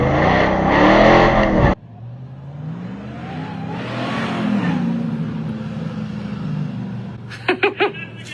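A RAM TRX offroad truck's engine rumbles and revs at a night ride at an overland expo, rising and falling at moderate distance, with a brief loud burst at the start and short sharp bursts near the end.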